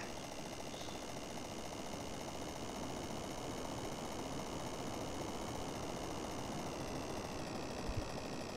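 Car engine idling in GTA San Andreas, a steady low hum with a faint mechanical buzz running unchanged and quiet throughout, no voices.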